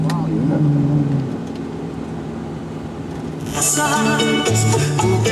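A tour vehicle in Puerto Rico rumbles along with a steady engine drone, loud and close, while people talk over it and brighter clatter rises toward the end.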